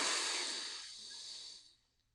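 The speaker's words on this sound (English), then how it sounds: "Big breath in to start with." One big, deep breath in through the nose, close and clear, a soft airy hiss that fades out after about two seconds in a quiet room.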